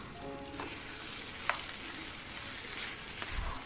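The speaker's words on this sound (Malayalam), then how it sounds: "ഒരു മീഡിയം ഫ്ലെയിമിലിട്ട് നല്ലപോലെ ഇളക്കിയെടുക്കണം" Chicken coated in masala sizzles softly in a pan over medium flame, with a low continuous frying hiss and an occasional faint scrape or clink from stirring, quiet and close with no talk.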